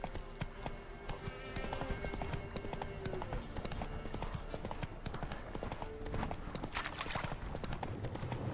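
Hoofbeats of Roach, a horse in the Witcher 3 video game, clip-clop steadily at a gallop for several seconds, with a brief whinny and game ambience and music layered underneath.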